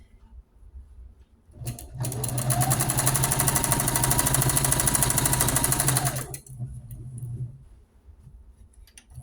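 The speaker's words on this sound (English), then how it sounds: "Back stitch a little to secure it." A sewing machine runs steadily for about four seconds, stitching seams across the rows of a pink rag quilt with a brief backstitch. It is a loud, close, even whir, with quiet room sound before and after.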